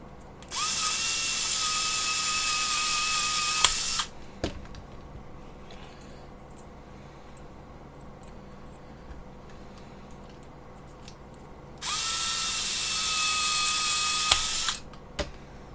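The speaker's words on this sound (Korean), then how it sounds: "이렇게 나사 드라이버로 돌리면 이렇게 들어가서" A screwdriver drives screws into the brackets of a four-legged robot kit in two separate whirring motor bursts of about three seconds each. The bursts are fairly close and separated by a long quiet stretch with small handling clicks.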